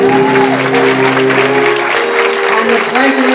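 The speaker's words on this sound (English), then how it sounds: "Let's give them a round of applause, ladies and gentlemen." Audience applause at a student film awards ceremony, a steady wash of clapping from a crowd filling the room, with a voice speaking over it.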